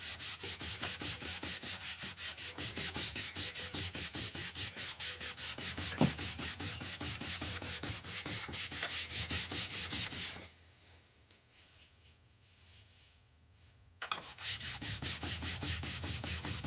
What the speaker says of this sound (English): This is 180 that I'm sanding with.